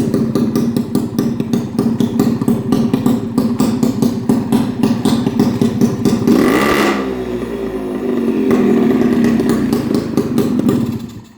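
A repaired Peugeot car engine runs close by, with a steady rapid mechanical clatter that surges briefly in a loud rev midway, then settles back to a rough, even running.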